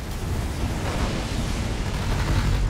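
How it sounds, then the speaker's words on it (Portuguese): Ships firing and explosions in the space strategy game Sins of a Solar Empire 2, a steady roar of blasts and rumbling weapon fire filling the clip without a break. "E, ó, a minha navinha aí atirando."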